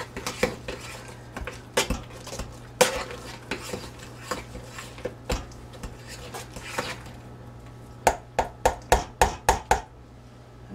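A spoon or masher thumps and clinks against a pot full of cooked potatoes, irregular knocks at first, then a quick run of six evenly spaced strikes near the end, close and fairly loud over a low steady hum.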